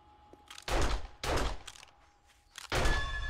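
Automated turret gunfire in the console game 7 Days to Die, three short bursts of rapid shots separated by pauses, sharp and loud over faint background game tones.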